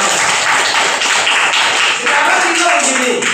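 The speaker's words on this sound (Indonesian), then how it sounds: "Baik, tepuk tangan yang meriah buat kita semuanya." A group of schoolchildren in a classroom claps together in a thick, continuous burst, loud and near, with voices mingling under the clapping.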